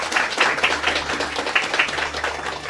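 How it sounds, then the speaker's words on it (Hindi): Audience clapping during an inauguration ceremony for a healing training program, honoring Rotary Club officials; dense, steady applause from many hands, fairly close and continuous throughout. "जोरदार तालियों से"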